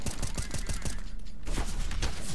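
An AK rifle in the video game CS:GO fires a loud, rapid burst of shots close by, the cracks coming fast and evenly with a brief lull before more shots follow.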